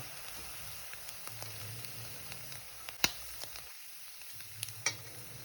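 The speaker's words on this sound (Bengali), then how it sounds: "বাকি মাছগুলোকেও আমি এইভাবে ভেজে নেব" Small puti fish fry in hot oil, giving a soft, continuous sizzle broken by a few sharp pops and spits, with no talking.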